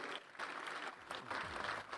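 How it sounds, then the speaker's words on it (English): A large audience at the NDTV World Summit 2025 breaks into sustained applause as the Chief Justice of India enters the building, a dense, steady wash of clapping that holds throughout. "can we have a huge round of applause"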